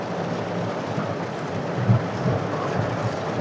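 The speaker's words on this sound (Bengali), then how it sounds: "এরকম বৃষ্টিতে আমরা অনেকদিন পর বেরিয়েছি না, এত বৃষ্টিতে আমরা বেরোই নাই।" Heavy rain pours steadily, a dense continuous wash with no voices, and a dull low rumble surfaces briefly partway through.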